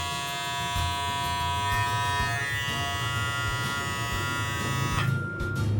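A cheap electric beard and mustache shaver buzzes steadily at close range with a high whine, its hum shifting slightly near the end as it is handled.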